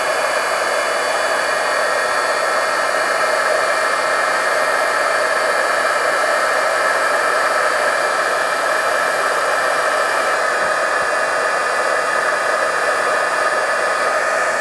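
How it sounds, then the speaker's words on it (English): A heat gun blows steadily while heat-embossing a stamped design on a paper gift bag, making a continuous, fairly loud whooshing hiss that stays unbroken throughout with no talking. "And now we'll just heat emboss that."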